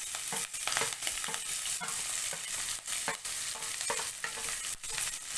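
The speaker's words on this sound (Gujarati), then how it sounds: "તેની અંદર ઉમેરીશું 1 ડાળખી લીમડાના પાન અને જે આપણે મરચાં અને આદુની કટકી કરી હતી તે ઉમેરી દેશું" A sprig of curry leaves with chopped chilli and ginger sizzles in hot oil, producing a bright, steady frying hiss with frequent crackling pops and brief dips.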